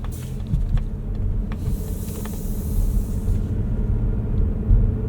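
A 2025 Mazda CX-50 hybrid with its 2.5-liter powertrain and eCVT gives a low, steady engine growl and road rumble while driving, joined by intermittent higher hiss and no talking.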